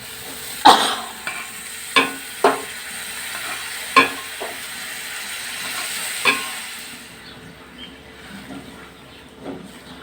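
Chickpeas tipped into an oily chana masala gravy and stirred in a pan: a soft, steady sizzle broken by several sharp scraping knocks of the spoon, fading quieter toward the end.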